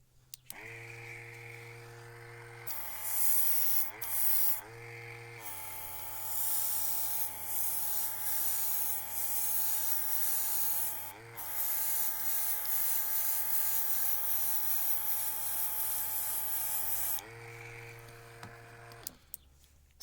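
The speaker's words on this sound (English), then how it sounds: "that'll just go in my airbrush, and we'll just spray it now." Airbrush spraying grey paint onto an N gauge Class 37 locomotive model, a steady hiss that runs in long bursts with short pauses, layered over a constant tonal whine from a nearby compressor.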